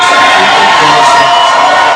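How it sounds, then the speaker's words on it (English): A large crowd of political supporters at a rally claps and cheers, a dense, loud, steady roar with whoops and shouts that fills the whole two seconds without any lull. "his supporters, they started clapping and cheering"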